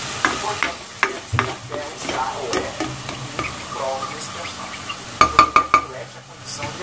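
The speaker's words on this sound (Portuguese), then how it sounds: "Aqui eu vou colocar um pouquinho de tempero e vou refogar aquele creme." Seasoned cassava cream sautés in a pan on a home stove, a soft sizzle broken by clinks and taps of a utensil against the pan, with a quick cluster of sharp knocks near the end and faint talk in the background.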